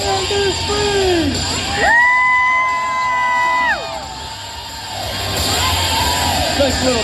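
Crowd at a monster truck show cheering and yelling, a sustained loud roar of voices with rising whoops and children's shouts over about seven seconds.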